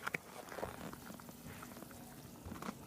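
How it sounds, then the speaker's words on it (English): A ketchup-and-water sauce boils in a pot, with quiet, continuous bubbling and scattered pops close by and no talking. "Okay, it's now boiling."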